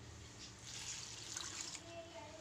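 Water is poured from a glass into a cooking pot holding lentils with salt and green chilli for a dal and spinach saag, a soft, faint trickle rising slightly midway.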